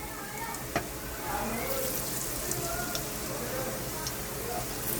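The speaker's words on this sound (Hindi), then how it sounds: "अब इसको हमने जितना फ्राई करना है, यानी जितना गोल्डन रखना है उतना कर लेंगे।" Potato, onion and chili pakoras fry in hot oil, giving a steady, fairly loud sizzling hiss that holds through the clip with a few brief clinks.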